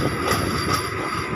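A train pulls away from Mandamarri station, a steady close rumble of wheels and carriages with a faint high squeal riding over it, brief and continuous.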